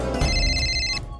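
Telephone ringing with a bright electronic ringtone, one short burst of high tones sounding clearly and close, then cutting off.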